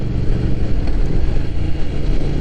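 Triumph Thruxton Final Edition motorcycle riding along back roads, its engine a steady close rumble mixed with wind noise, holding an even loud drone without breaks.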